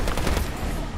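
Rapid automatic gunfire from the Medal of Honor Warfighter video game, a dense, loud burst of closely spaced shots rattling without pause.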